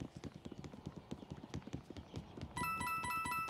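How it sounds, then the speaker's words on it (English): Rhythmic clip-clop footsteps like hooves from the Mario + Rabbids Sparks of Hope video game, steady close steps that give way near the end to a bright chiming game tone layered over them. "I love the footsteps and sounds"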